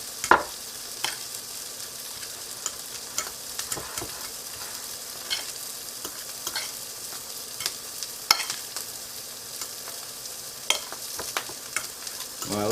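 Guacamole seasoned with pepper being stirred in a bowl, a steady soft mushy scraping with small clicks of the utensil repeating throughout, close and alone without talk.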